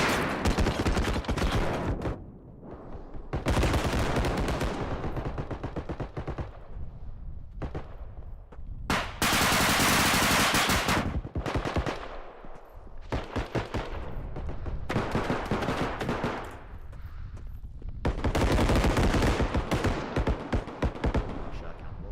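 Bursts of machine-gun fire and rapid gunshots crackle almost continuously in the background, with loud volleys and short pauses between them, while a voice talks intermittently over the shooting.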